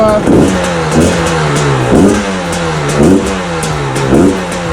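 A cold KTM 300 XCW TPI two-stroke dirt bike engine revs up and down in a steady rhythm, about four or five blips of throttle over a rough idle, loud and close.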